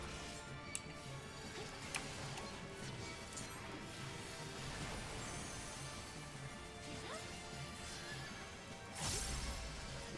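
A horse in the Final Fantasy XIV video game whinnies several times amid clip-clopping hooves and game effects, all faint and low in the mix.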